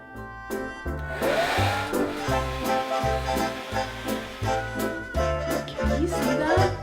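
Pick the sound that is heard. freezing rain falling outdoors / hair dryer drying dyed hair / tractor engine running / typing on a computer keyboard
hair dryer drying dyed hair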